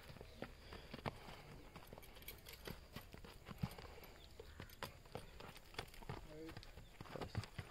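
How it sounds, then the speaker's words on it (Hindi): A handsome horse's hooves clip-clop in an uneven walking rhythm at moderate distance, mixed with background chatter and outdoor noise. "और दिखाते हैं आपको एक और घोड़ा, बेहतरीन बहुत सुंदर घोड़ा है"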